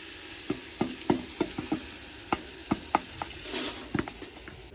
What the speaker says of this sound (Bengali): এখনই একটুখানি ঘাটা দিয়ে তারপর এটার মধ্যে চালটা দিয়ে দিব